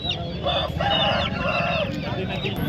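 At a busy chicken market in Krishnagiri, a rooster crows and clucks loudly nearby in repeated ringing bursts, over a constant background of other fowl and crowd noise.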